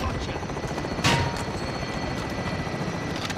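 Helicopter arriving in Call of Duty Warzone Plunder, a steady rotor drone under dense game noise, with a brief louder swell near the middle and no talk.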